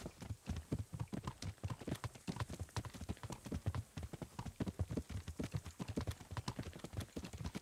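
Steady, rhythmic hoofbeats of a trotting horse in Kingdom Come: Deliverance, close and even-paced, continuing throughout without talk.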